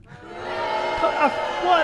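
A train in the video game F.E.A.R. 2 sounds a blaring horn-like tone with layered harmonic pitches that bend and waver, growing louder over a couple of seconds amid a rumbling background.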